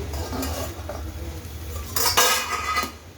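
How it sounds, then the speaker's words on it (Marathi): Steamed ivy gourd (tondli) stirred with crushed peanuts in a metal pan, a spoon scraping and clinking against the pan in a steady run that grows louder and busier toward the end. "आता हे मिक्स करून घ्यायचं शेंगदाण्याचं कूट वगैरे"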